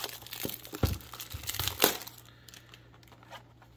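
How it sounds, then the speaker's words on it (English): Plastic wrapping on a 2021 Bowman Platinum trading card blaster box is cut and crinkled, giving close, sharp rustles and crackles for about two seconds before the sound fades to quiet handling. "guess we need to cut that open so we can take a gander"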